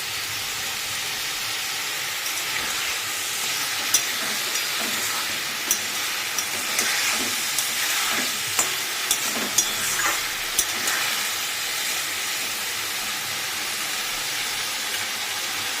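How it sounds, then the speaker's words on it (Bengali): Tomatoes sautéing in hot oil in a pan for a fish curry with drumstick stems and potatoes: a steady close hiss and sizzle with scattered sharp crackles and pops, and no talking. "এবার আমি টমেটোটা দিয়ে দেবো টমেটোটা দিয়েও একটু কষাবো"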